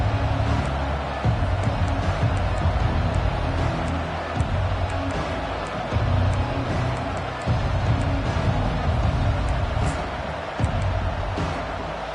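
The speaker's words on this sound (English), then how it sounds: "This crowd bringing an ear-splitting welcome to their visitors." A college football stadium crowd at Arkansas versus TCU roars in a loud, sustained wall of cheering and noise, steady throughout with no pauses.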